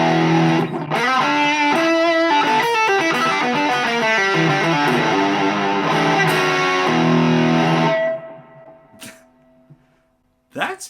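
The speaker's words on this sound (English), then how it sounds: "meant to be like a Boss DS1 or just a general distortion pedal" An electric guitar through a cheap Boss DS-1-style distortion pedal plays a thick, buzzing chord riff for about eight seconds, then rings out and fades, followed by a couple of faint clicks.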